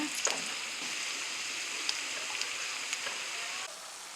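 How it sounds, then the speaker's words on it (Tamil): Pieces dropped one by one into hot oil fry for a side dish to go with curd rice, giving a steady, moderately quiet sizzle with a few faint clicks and no talk. "இந்த மாதிரி ஒன்று ஒன்றா போட்டு நீங்கள் பொரிச்சு எடுத்துக்கோங்க."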